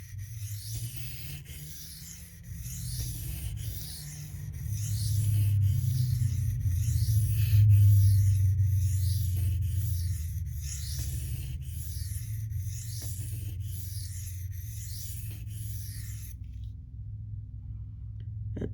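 An M390 steel Benchmade Manix 2 knife edge stroked across a silicon carbide sharpening stone makes repeated rhythmic scraping passes, close and fairly quiet, over a steady low hum, with no talking.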